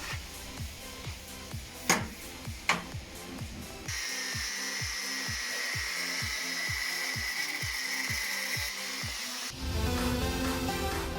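A power tool cuts a plastic bumper trim strip on a BMW E36 coupe under restoration, making a close, steady buzzing whine with a fast rhythmic pulse that grows louder near the end.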